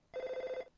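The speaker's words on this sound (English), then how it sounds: "It's phone ringing." A telephone rings once in a single short buzzing trill, clear and fairly close, with no voices over it.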